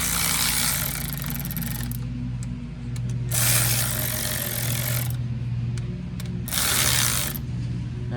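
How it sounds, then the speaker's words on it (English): A cordless ratchet whirs in three loud, sustained bursts while working on a 2015 Chevrolet Silverado brake caliper during a pad replacement, with a steady low mechanical hum between runs. "Now if you're using a cordless ratchet, admittedly I probably should be doing this by hand."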